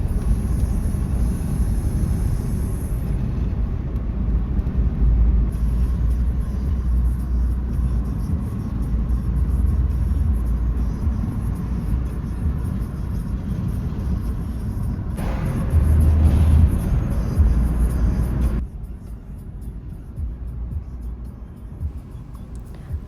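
Car in motion on a road heading toward the Morska station area in Zatoka, a Black Sea resort town, a steady low engine and road rumble filling the whole stretch, with a brief louder swell before easing slightly near the end.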